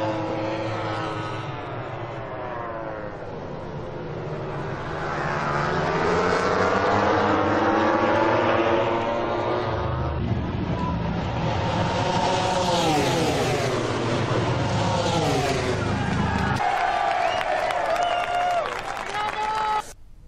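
High-speed racing motorcycles scream past at a championship race, their engine notes climbing and falling in overlapping Doppler sweeps, loud and sustained throughout with a crowd faintly audible beneath.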